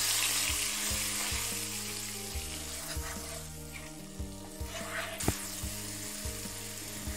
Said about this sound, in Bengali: এবার মশলা ভালো করে কষিয়ে নেব